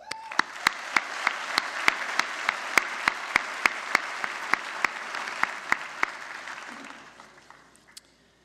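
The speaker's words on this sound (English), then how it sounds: "Give yourselves a round of applause." Graduates applaud themselves at a 2018 Mohawk College convocation for the business, media and entertainment school. Sustained crowd clapping in a large hall is punctuated by a few sharp, close claps, then fades away toward the end.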